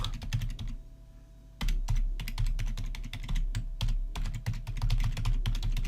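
Typing a name on a computer keyboard while signing up for a school account produces rapid clattering keystrokes in quick bursts, with a brief pause near the start, close and clear with no talk.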